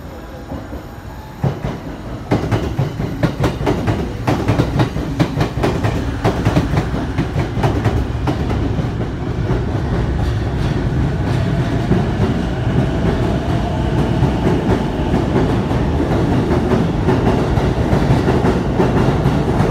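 A JR East electric train pulls away from a platform at Shinjuku Station on the Chuo Line, with rising rumble and rhythmic clickety-clack of wheels over rail joints, loud and close, continuous throughout.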